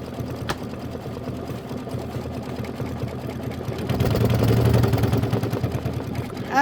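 An embroidery machine stitches star fills on a hooped mini quilt block with a steady, rapid mechanical chatter that grows louder and busier toward the end.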